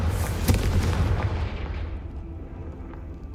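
A booming Confringo spell blast from the video game Hogwarts Legacy, a loud fiery explosion that hits at once and then rumbles and fades over a few seconds, with no voices.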